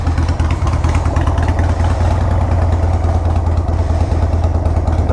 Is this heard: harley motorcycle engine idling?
yes